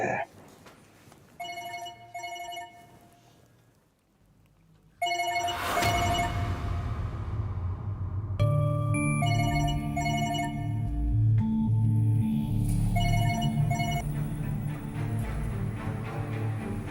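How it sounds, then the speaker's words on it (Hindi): A telephone rings in repeated electronic bursts, first faint, then louder after a pause, with a busy background of music and noise. "इसका फोन आ गया इस टाइम पे।"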